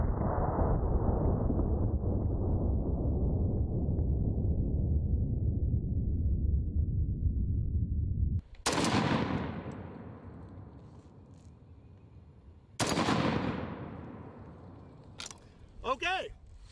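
A Lahti 20mm anti-tank rifle fires two sharp, very loud blasts several seconds apart outdoors, each with a long rolling decay, after a stretch of steady roaring noise, with a voice talking between the shots.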